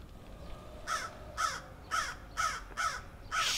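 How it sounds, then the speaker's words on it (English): A crow caws five times in a steady series of harsh, loud calls with short gaps between them over quiet background noise. "God, I haven't seen crows here in years, much less heard them."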